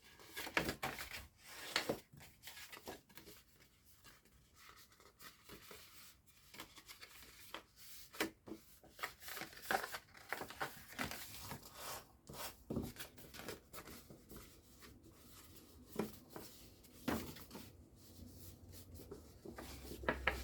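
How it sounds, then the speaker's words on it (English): Scored cardstock gift bag being folded along its score lines, soft paper creases, rubs and crinkles coming in irregular quiet bursts close up. "Just find all your score lines and fold them all in."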